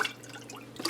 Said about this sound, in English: I'm going to rinse